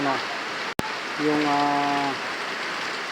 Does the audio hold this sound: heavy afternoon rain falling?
yes